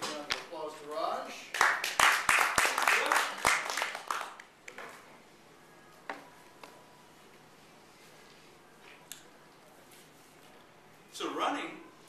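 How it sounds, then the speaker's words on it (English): A talk audience claps for a speaker with a short burst of sharp, close hand claps over a couple of seconds, then fades to scattered taps and quiet, with a brief final smattering near the end; speech is heard at the start. "let's give a big round of applause to Raj."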